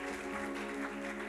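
A church congregation applauding during a sermon, a steady wash of clapping with a sustained tonal hum running underneath, continuous and fairly loud throughout.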